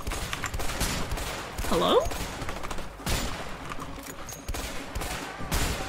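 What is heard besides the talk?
gunfire in the video game A Way Out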